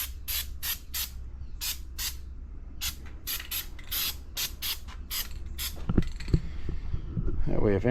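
Corrosion X sprayed onto a Yamaha outboard engine during a 300-hour service, heard as a run of short, close hissing bursts in a steady rhythm, followed by some clattering handling noise near the end.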